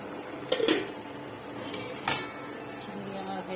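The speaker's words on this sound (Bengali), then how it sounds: "এখন আমি মিষ্টি কুমড়া রান্না করবো" Utensils clink and clank against a pot while sweet pumpkin cooks with turmeric, chili, coriander, bay leaf, garlic and onion; a couple of brief metallic knocks stand out over a faint kitchen background.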